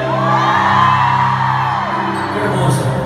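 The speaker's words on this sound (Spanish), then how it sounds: "que se escuche el grito" Concert crowd at a live show at the Bronx Expo Center in New York, shouting and whooping together, a loud continuous roar with music underneath throughout.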